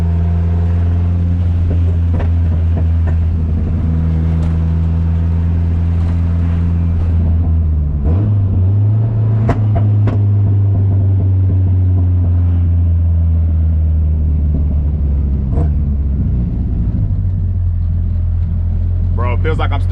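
A car with a short shifter driven slowly, its engine rumbling loud and close from inside the cabin, the pitch rising and dropping with gear changes and throttle.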